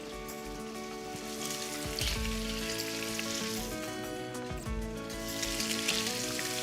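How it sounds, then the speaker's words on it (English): Salmon fillet frying belly side down in a hot pan gives a loud, continuous close sizzle and crackle that holds steady throughout, with no talking. "Put the salmon in with the kind of belly side, not the skin side, the belly side down."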